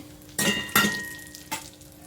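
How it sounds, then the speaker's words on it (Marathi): Almonds and pistachios roasting in a spoonful of ghee, with three short bursts of stirring and sizzling against the pan, close up and separated by brief pauses, no voices. "एक चमचा तूप टाकून हे बदाम आहेत आणि पिस्ता आहेत ते भाजून घेते"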